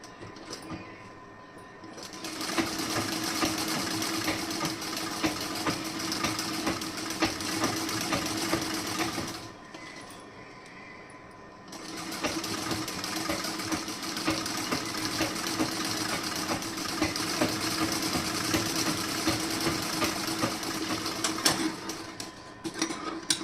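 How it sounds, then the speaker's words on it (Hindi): Sewing machine stitches fabric with a continuous close mechanical whirr and hum, running in two long stretches separated by a short pause. "उसके बाद आप स्टिचिंग कीजिए"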